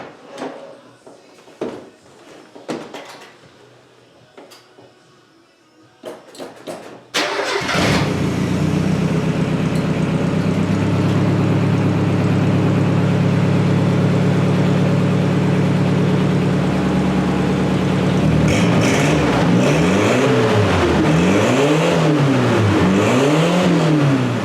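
A truck engine cranks and catches, then settles into a loud, steady run and finishes with several rising and falling revs. Sparse clicks and clunks in a quiet workshop come before the start.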